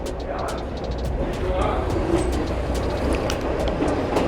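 A passenger train in Jamaica rolls along the rails with a steady rumble and rhythmic clicking of wheels, heard from inside amid some background chatter.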